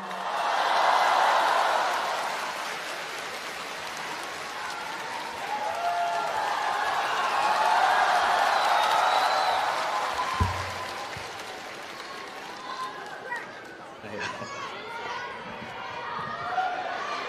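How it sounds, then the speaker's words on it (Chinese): Applause from a crosstalk show audience greets two performers on stage, a dense wash of clapping that swells and holds for several seconds before thinning out, with a few louder slaps and murmurs near the end. "谢谢观众朋友们的热情掌声和鼓励啊"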